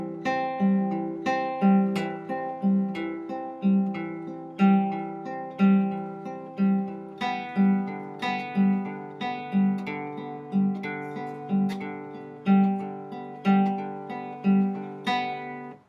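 A guitar plays the La Cucaracha guitar part with accented beats, a steady run of plucked notes over about sixteen seconds, with regular louder pulses standing out from the flow, played alone.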